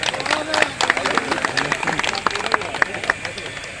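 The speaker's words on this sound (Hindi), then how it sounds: "आप लोगों से ताली बजा के इनका स्वागत करें।" An audience at a police officer's farewell ceremony in Vijayraghavgarh claps to welcome the officer: brisk, scattered hand claps at close range, mixed with crowd voices and murmuring.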